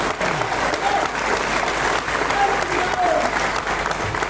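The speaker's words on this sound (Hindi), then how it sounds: "ऐसे चलन भाई के लिए जरा जोरदार तालियां बजा दीजिए" Loud, sustained applause fills a crowded hall at a political gathering in Sagar, with people chattering underneath the continuous clapping.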